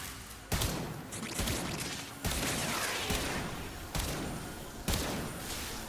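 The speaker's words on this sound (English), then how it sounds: "I missed all those shots." Kuva Chakkhurr firing in the game Warframe: a series of heavy, booming single shots spaced roughly a second apart, each with a sharp attack and a rumbling tail, over constant game ambience.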